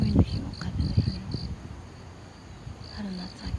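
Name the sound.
crickets chirping in the morning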